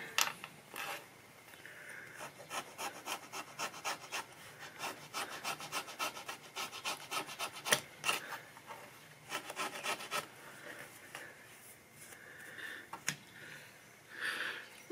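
Old facing is torn and scraped away from the treble pallets of a Hohner accordion in a steady run of rough, rasping strokes. The sound is close and continuous, without speech.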